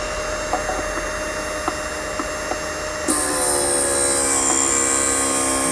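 An MR-13B drill bit grinding machine starts up partway through, shifting from a quiet hum with light clicks to a steady, loud whining motor drone with a rising high-pitched tone that holds to the end.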